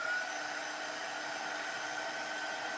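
A hair dryer runs steadily at close range, its broad airy whir blowing over freshly painted craft buttons for a winter button tree, with no pauses and no voices.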